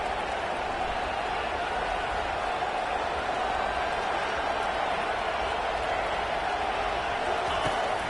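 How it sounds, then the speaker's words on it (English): Deafening stadium crowd at a football game during a late two-point conversion attempt, a dense, continuous roar that holds steady throughout without letting up. "And this crowd is deafening"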